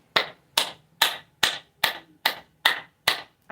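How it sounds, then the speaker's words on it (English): Hand clapping meant to clear stagnant energy, eight sharp even claps at a steady pace, loud and close, each ringing briefly in a reverberant room, with no talk. "Clap your hands."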